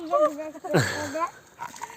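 Puppies yip and bark a few times in short high-pitched bursts, close by on an outdoor walk, mixed in with people talking.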